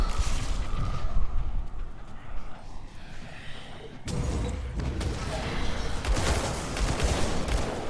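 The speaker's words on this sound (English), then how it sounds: "keep everyone stunned using the cluster bomb" Rapid bursts of cluster bomb explosions from the Grim Dawn action RPG, dense crackling booms clustered in waves through the clip, loud and close, with game combat noise and talk over them.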